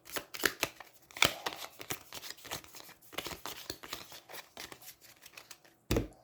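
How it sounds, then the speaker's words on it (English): Cards from an Aeons End 2nd Edition deck are shuffled on a tabletop, a run of quick riffling and snapping bursts with brief pauses, faint and close, ending with a sharper flick. "And we shuffle Zaxos."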